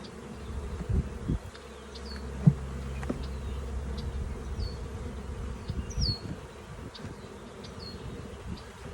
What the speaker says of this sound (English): Turn some bees off the edge.